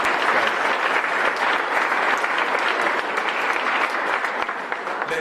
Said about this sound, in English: Okay, you clap on that, all right?